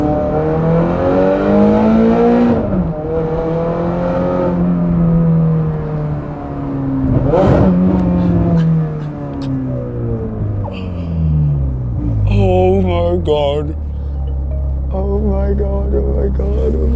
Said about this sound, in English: Those downshifts are just incredible.